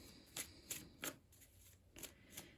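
Tarot cards being shuffled in quick bursts, several soft riffling flutters close by with brief pauses between, quiet and alone.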